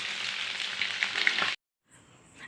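Fish frying in oil over a low flame in a village-style kitchen, a steady sizzle that fills the first second and a half before cutting to silence, then a faint return of the crackle.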